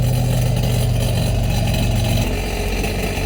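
A Sea-Doo Switch engine runs out of the water during a hose flush for winterizing, giving a loud, steady, close idle drone that dips slightly near the end.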